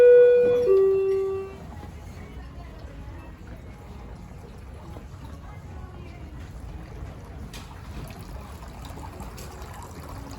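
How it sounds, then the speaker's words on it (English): A water feature in a 1970s-era department store trickles steadily at a moderate distance. A brief tonal sound is heard at the start, and the faint murmur of the store sits underneath. "These water things are pretty cool."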